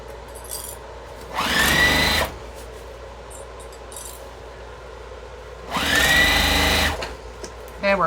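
A sewing machine stitches a tote bag made from jellyroll fabric strips in two short bursts, the motor whirring up and running steadily for about a second each time, with quiet pauses between.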